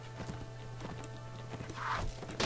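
Horse hooves gallop in the medieval combat game Mount & Blade, a rapid, steady clatter of hoofbeats over a constant background wash, with no voices.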